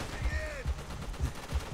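Machine gun fire in Call of Duty World at War, a string of low thudding bursts at a steady pace, moderately loud, with a brief whistling tone near the start and no talk.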